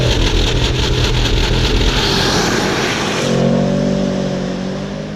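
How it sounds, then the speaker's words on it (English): A 2018 Porsche Panamera Turbo S E-Hybrid launching in Sport Plus and manual mode, the engine roaring loud and close as it hits the rev limiter in first gear, then settling into a steadier, smoother drone. "I had it in manual mode there, so I pinged the rev limiter in first gear"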